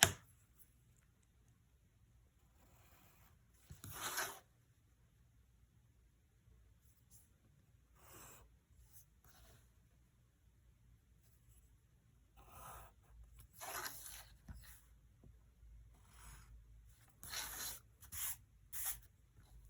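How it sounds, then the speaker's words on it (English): A pencil or pen scratches short, separate strokes across paper while drawing the front face of a box. The quiet, close scrapes come in bursts, with gaps of near silence between them. "We begin again by drawing the front face of the box."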